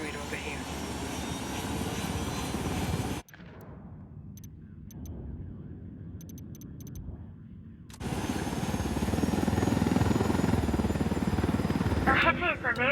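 Helicopter engine and rotor in Ghost Recon Wildlands, a broad steady mechanical roar that drops away partway through, then returns loud and close, with game voices talking over it.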